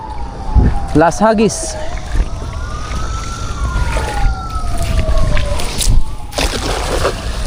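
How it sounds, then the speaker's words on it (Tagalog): A distant ambulance siren wails with a slow rising and falling tone while people talk nearby and water splashes during fishing. "Naku, may ambulansya pa dun ah."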